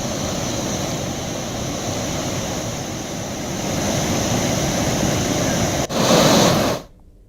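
Fast-flowing water of the swollen Kanhar river near Rampur rushes in a steady, loud broadband roar that keeps going without a break, swelling slightly toward the end before cutting off abruptly.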